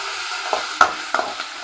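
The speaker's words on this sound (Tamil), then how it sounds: "நல்லா கோல்டன் ப்ரௌனாக வர வரைக்கும் வதக்கலாம்." Onions and curry leaves sauté in a pan for a mutton leg paya, giving a soft, steady sizzle with a few brief scraping stir strokes close by.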